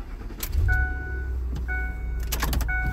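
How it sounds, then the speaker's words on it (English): A truck starting up, with a steady low engine rumble running throughout, short clicks and tonal chimes over it, and a brief jangle near the end. "Start up the truck."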